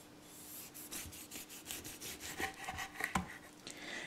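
A knife works through a spaghetti squash, cutting it widthwise into sections: quiet, close rasping strokes in an irregular rhythm with a couple of sharper knocks near the end.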